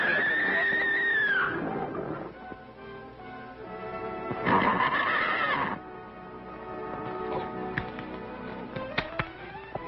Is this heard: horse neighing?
yes